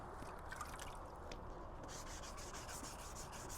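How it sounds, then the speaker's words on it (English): Lightly sanding a primer coat by hand: a faint, continuous soft rubbing and scratching, steady throughout with slight rhythmic strokes. "we're gonna lightly sand the primer"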